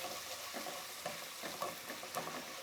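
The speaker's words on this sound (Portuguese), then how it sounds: "Coloquei o alho, a cebola. Vou deixar ela dourar." Garlic and onion fry in a pan with a steady close sizzle. A few soft stirring scrapes come through at irregular intervals.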